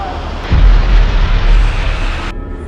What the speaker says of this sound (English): another plane has just hit